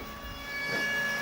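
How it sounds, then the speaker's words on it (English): A siren on an amusement ride, newly wired at an amusement equipment shop, sounds as a steady, fairly faint tonal wail that holds level and swells slightly toward the end. "Curdy, you got the siren working."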